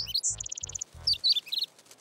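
A cartoon baby bird chirps in quick high tweets, a run of short repeated peeps and then twittering calls, clear and close, with soft low thumps under the first half.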